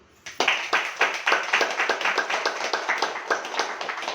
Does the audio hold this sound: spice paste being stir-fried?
no